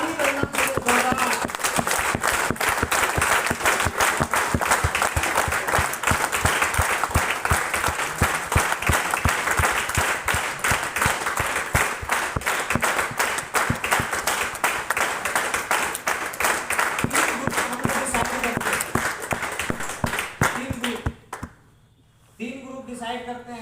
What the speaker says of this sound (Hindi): ताली बजाना चाहिए जोरदार